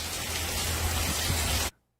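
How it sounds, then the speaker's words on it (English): Heavy rain falls in a dense, steady hiss of drops striking surfaces, loud and unbroken until it cuts off abruptly near the end. "look how hard it's raining, guys."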